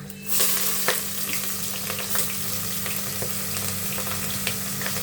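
Onions frying in oil with whole spices such as bay leaf and mace for chicken biryani: a sudden hiss as they hit the pan, then a steady close sizzle with faint stirring clicks.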